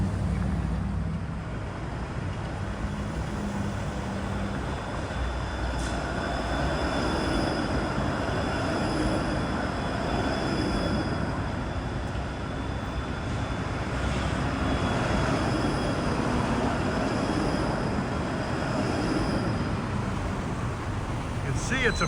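A Toronto streetcar passes near Broadview and Danforth, giving a sustained mechanical rumble with rail whine and traffic noise throughout. Someone talks over the sound at times.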